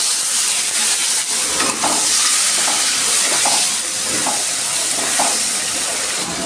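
Dry chili, bay leaves, cardamom, cinnamon, cumin and chopped tomato fry in hot oil, a loud, constant close sizzle with faint stirring scrapes throughout.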